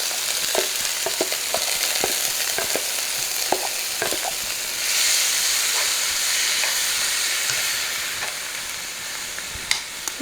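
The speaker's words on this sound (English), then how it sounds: "So we're just going to cook these in here until they're translucent." Chopped onions sizzle and hiss steadily in a hot pan, with occasional stirring scrapes and clicks, close and continuous without talk.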